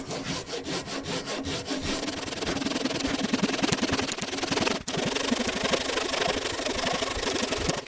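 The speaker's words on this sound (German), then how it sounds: "seitlich mit der Säge das Ganze abschneiden" A hand saw cuts through wood on an 1890 entrance gate, sawing off a door rebate with steady back-and-forth rasping strokes, close and continuous, briefly pausing midway before resuming.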